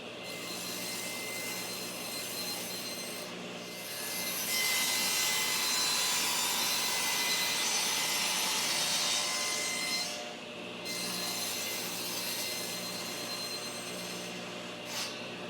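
A handsaw cuts wooden trellis pieces to length with steady back-and-forth rasping strokes that stop briefly twice between cuts, close and fairly loud.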